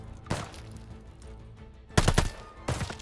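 Machine gun bursts crack out in Call of Duty Vanguard gameplay: a single shot, then a rapid burst of several rounds and another short burst, with quiet background between.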